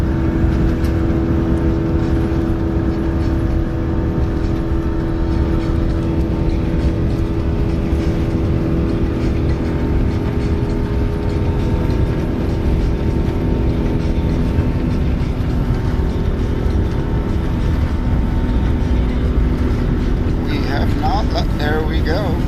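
Airliner departing rainy Hong Kong, heard from inside the cabin as a loud, steady broadband engine roar with a low hum that holds throughout the takeoff climb, with a brief faint rattle near the end.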